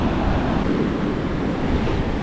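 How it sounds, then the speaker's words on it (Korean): Ocean waves at Bondi Beach in Sydney make a steady, broad roar of surf with wind noise, continuous and fairly loud. "여기도 파도가 엄청 세진 않은데 괜찮네요"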